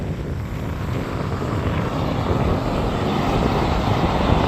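Near LAX airport in the Westchester area, a jet's engines roar in a broad, loud, steady rumble that builds slightly as the plane passes, with no voices present.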